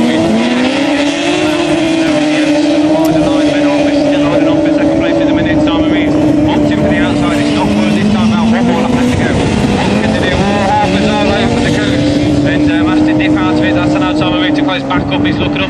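Autograss race cars scream around a dirt track in a class 8 heat, their engines droning loudly with shifting pitch as they pass, while a commentator talks over the racing throughout.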